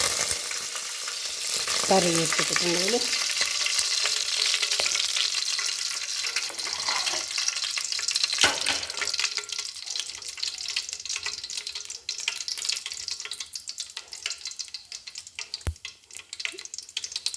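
Mustard and fenugreek seeds crackle and sizzle in hot oil in a kitchen pan, a steady frying hiss with scattered pops throughout, loud and close, with a brief bit of speech.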